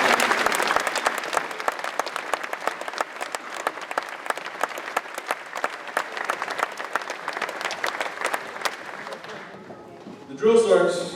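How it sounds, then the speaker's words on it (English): A large graduation crowd at U.S. Army Basic Training at Fort Benning, Georgia, gives sustained applause to the drill sergeants and officers. The clapping is dense and crisp and fades near the end as a voice comes in. "please recognize the outstanding NCOs and officers with a round of applause"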